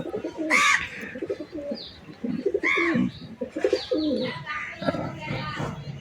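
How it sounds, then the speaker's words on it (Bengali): Domestic pigeons with yellow eyes coo nearby in repeated soft, throaty phrases, with someone talking over and between the calls. "এই নর কবুতরটা এখন ছেড়ে দেখাবো আপনাদেরকে।"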